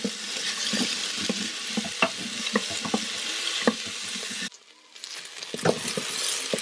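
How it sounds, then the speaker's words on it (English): Chopped onion sautéing in an Instant Pot, a continuous close sizzle with frequent spoon scrapes and stirring clicks, loud and steady, dipping briefly before resuming. "I like sauteing the onion first so it will caramelize"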